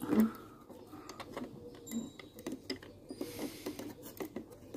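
A bench vise built to grip coins for cleaning is tightened with a coin clamped in it, giving faint, quick mechanical clicks and ratcheting ticks in a quiet room.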